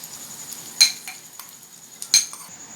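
A tempering of fried spices is tipped from a small pan into a bowl of onion chutney, with two sharp metal clinks of the pan or spoon against the bowl, close up, against a quiet background.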